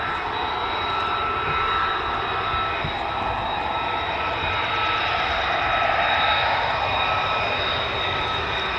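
A US Air Force fighter jet, an F-15 or F-35 of the 48th Fighter Wing, landing at RAF Lakenheath, with a loud continuous jet engine roar and high whine that hold steady throughout.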